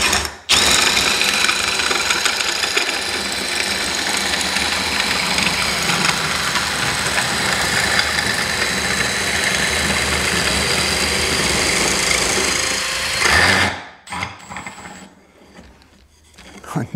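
A cheap dowel maker bought from Temu shapes wood at full speed with a loud, continuous mechanical whir and grinding rattle that runs steadily for about thirteen seconds, then cuts off into a few rough, uneven scrapes.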